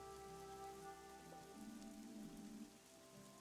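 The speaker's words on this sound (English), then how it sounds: "Oh, and then it starts to rain." Steady rain patters in the video game Fall of Porcupine, a soft continuous hiss of drops that runs the whole time beneath a gentle sustained musical backing.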